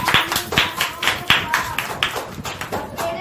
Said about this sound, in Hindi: ताली बजाओ, सब ताली बजाओ।